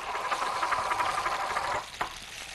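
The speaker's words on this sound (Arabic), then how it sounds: "هاخد الجزر وهنزل بيه يتشوي مع الفراخ" Carrots sizzling on a hot grill beside chicken, a close steady crackle with faint scraping that eases off partway through, followed by a single sharp tap.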